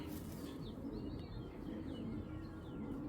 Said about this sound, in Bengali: এটা গ্রিজেল কবুতর